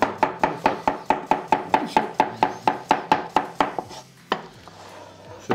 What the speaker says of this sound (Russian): нарезать также огурец и помидоры